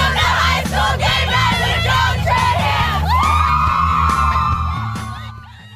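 High school cheer squad from Coppell at a football game night, yelling and whooping together as a loud crowd over booming drums, then a sustained shouted cheer that fades out at the end.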